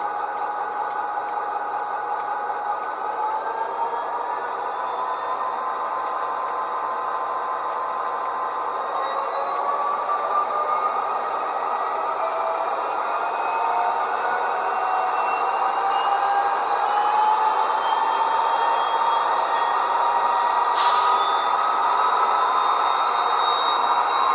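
A Proto 2000 SD60 model locomotive running on a Tsunami 2 sound decoder, its engine drone holding steady as harmonic tones slowly climb and shift with the throttle, plus a brief hiss burst near the end.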